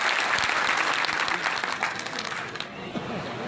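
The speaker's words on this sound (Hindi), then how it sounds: "एक बार जोरदार ताली से उनका स्वागत किया जाए" A crowd at a community gathering claps loudly to welcome a local MLA: dense, close applause that holds strong, then thins and fades toward the end, with a few voices mixed in.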